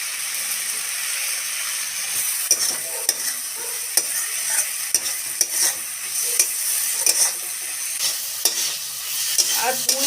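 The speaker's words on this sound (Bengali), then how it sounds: "কষিয়ে নেব নুন দিয়ে দিলাম" Taro and spices with salt being stir-fried in a pan with Malabar spinach, giving a close, steady sizzle broken by repeated sharp scrapes and knocks of a spatula against the pan, with no talking.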